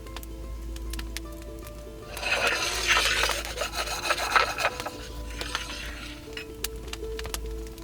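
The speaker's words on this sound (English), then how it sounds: "Then I'm going to add them to a kitchen towel and rub them to remove the skin." Toasted hazelnuts rubbed in a kitchen towel to loosen their skins, giving a close, dry rasping and rustling scrub that runs for several seconds, with faint clinks around it and no talk.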